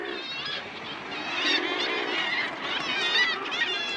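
A dense Arctic murre colony calls in constant overlapping croaks and harsh cries, loud and continuous as many birds gather around their chicks.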